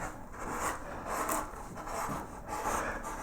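A hand tool scrapes and rubs against wood while carving the petals of a daisy-like flower, a close, steady rasping in short repeated strokes with no talk.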